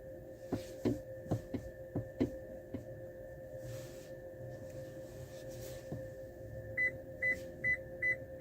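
A Toyota parking sensor gives a run of quick, evenly spaced electronic beeps over a low engine hum, with a few soft thuds earlier on.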